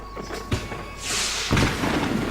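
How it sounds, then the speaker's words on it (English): Fireworks boom in the video game Max Payne 3, with a few dull thuds followed by a louder burst and rumbling rush, heard at a moderate distance without speech. "The fireworks display was clearly in my honor"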